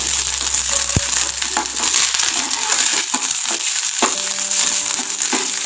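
Dried red chillies and curry leaves fry in hot oil in a pan for spinach sambar, a steady close sizzle with a few sharp clinks and scrapes as they are stirred.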